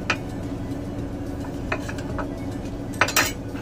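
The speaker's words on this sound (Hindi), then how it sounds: "तो इन्हें अच्छे से मिक्स कर लेते हैं।" Spoon scraping and clinking against a bowl while keema potato pakora batter is mixed with gram flour, steady close stirring with a few sharper clinks near the end.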